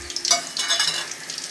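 Coriander seeds frying in hot oil in a kadai, a brief close sizzle with sharp crackling bursts and spatters over a quiet background.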